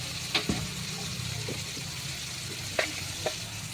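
Spice masala for potol chingri stirred in a pan, a steady low sizzle of frying with a few scraping clinks of the spoon against the pan.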